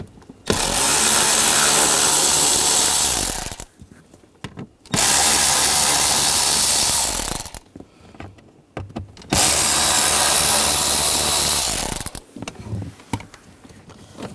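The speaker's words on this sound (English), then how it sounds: "And we're going to remove these screws. Take this panel down. Use a T20 socket." A tool removes T20 Torx panel screws on a 2009-2013 BMW 328i xDrive. Three loud, sustained whirring runs of about three seconds each are separated by short pauses with faint handling noises.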